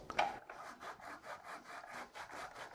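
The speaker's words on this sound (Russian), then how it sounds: "потру грана падано и столько же потру пекарина романо. Я тру на мелкой терке." Hard Grana Padano and Pecorino Romano cheeses are rubbed over a fine grater in quick, even rasping strokes, about four per second, soft and close.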